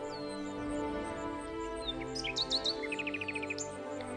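Cartoon bird in a Hindi kids' jungle story chirps in a quick series of bright, rapid tweets over a steady background music bed, with a cluster of fast repeated chirps near the end.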